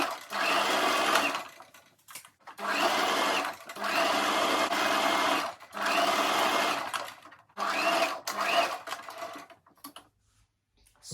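A sewing machine stitches a fabric band onto the base of a double knotted turban, running in five steady bursts of a few seconds each with short pauses between them, close and fairly quiet.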